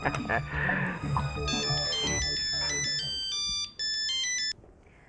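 A phone rings with a bright electronic ringtone as a call goes out to Arya in a Hindi family drama, starting after a spoken line and repeating in short bursts over low background noise.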